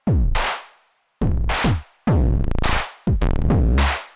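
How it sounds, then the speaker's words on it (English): A synth sine-wave sub two octaves down, with a buzzy, fart-like low tone that comes in four loud separate bursts, each with a falling pitch sweep, alone and with no talking. "It's basically just farting."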